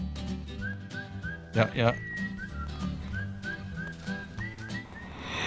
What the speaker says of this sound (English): I created this whistling.